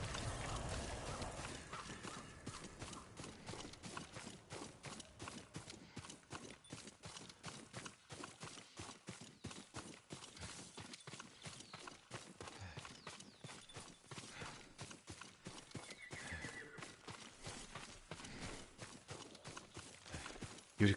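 A horse's hooves clip-clop in a steady, even rhythm in the video game Ghost of Tsushima, fairly quiet and continuous for about twenty seconds with no clear neigh.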